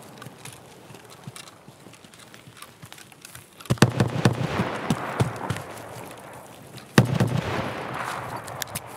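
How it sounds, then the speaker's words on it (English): Gunfire rings out in the shooter Escape from Tarkov, starting quiet and scattered, then two sharp loud shots each followed by bursts of rapid fire and echoing tails, fairly close. "he's shooting at a player now"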